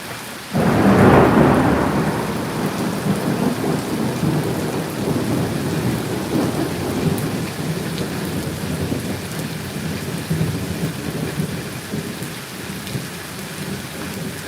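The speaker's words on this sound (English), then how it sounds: "Show the storm." A thunderstorm opens with a loud rolling thunderclap, then heavy rain pours steadily and densely on a surface for the rest of the stretch, with no voices.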